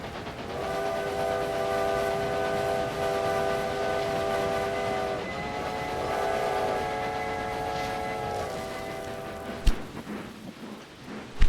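Trains in the Railway Empire game, a long sustained chord of train horns sounding together over a steady rumble of rolling cars, loud and close, briefly dipping and resuming before ending with a couple of sharp clanks.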